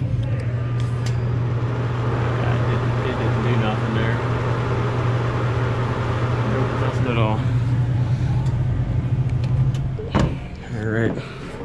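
A 20-year-old 115-volt commercial cooler compressor that runs on R22 hums steadily with a low, constant drone throughout. A person talks over it, and there are a few clunks near the end.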